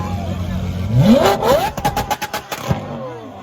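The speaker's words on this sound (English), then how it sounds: "So basically, stop revving your engines!" Supercars, including a Lamborghini SVJ and a Liberty Walk Huracan, rev their engines in a sharp rising burst, followed by a string of quick throttle blips and pops. Voices talk over the noise.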